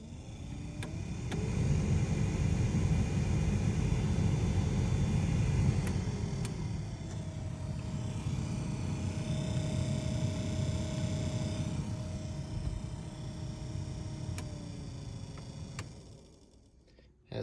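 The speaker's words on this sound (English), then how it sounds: "I'm trying to fix the noise coming from the passenger side of this Tacoma, and it is the blower motor" A Toyota Tacoma's passenger-side blower motor runs with the air on, giving a steady whirring hum with faint ticking throughout, fading out near the end.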